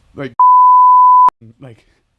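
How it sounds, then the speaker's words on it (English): A single steady censor beep covers a spoken word for about a second, clean and loud, with brief bits of talk just before and after it. "Beep."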